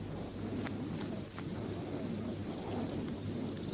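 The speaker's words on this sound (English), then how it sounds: "The harrier hawk visits a colony of swifts in the mouth of this cave" A colony of swifts at the mouth of a water-worn cave in a Tanzanian kopje gives a few faint, brief chirps over a steady low rumbling background.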